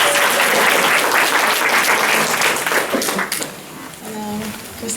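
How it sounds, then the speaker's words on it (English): Audience applause at a Detroit public talk on the Kerner Report, a loud dense burst of clapping that tapers off toward the end. "So if we could just get a round of applause"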